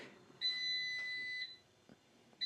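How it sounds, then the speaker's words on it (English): Kitchen timer beeping while chicken cooks on an iron comal: a loud, steady electronic alarm tone holding for about a second, followed by a fainter blip and another start of the beep at the end, with faint cooking noise beneath. "You hear that? The timer went off."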